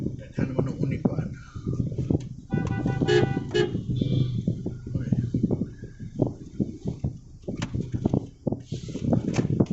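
Heavy downtown traffic in Cebu City: a dense, constant rumble of engines with repeated car horn toots over it and voices talking nearby.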